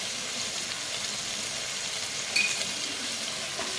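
Spices stirred in a frying pan of tomatoes and onions for vegetable biryani, a steady close sizzle with a soft scrape of the spoon partway through.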